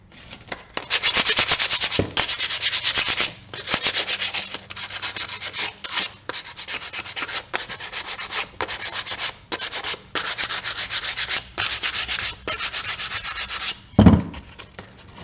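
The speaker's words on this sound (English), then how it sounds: "I will sand this so that you can kind of see" Dried Texture Magic wall texture being sanded by hand in long, steady rubbing strokes, close and loud, with brief pauses between passes and no talking.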